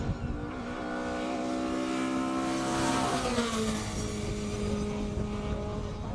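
Classic cars revving and running at a Cape Town speed event, a loud, continuous engine roar with rising and falling pitch that swells midway, crowd and ambience underneath.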